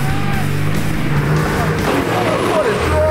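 A short-wheelbase 4WD revs hard as it climbs a slippery mud slope, engine loud and strained throughout with tyres churning, close to the microphone and steady over the whole stretch.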